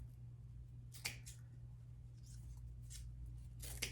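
Scissors snipping the tails of Dollar Tree candy cane forms, a few quiet, sharp cuts spaced apart over a low steady hum, with no talk.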